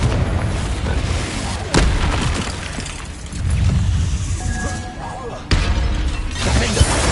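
Confringo fire-blast spell going off in a Hogwarts game, heavy booming blasts and crackling bursts that swell and fade over rumbling background, with brief talk at moments.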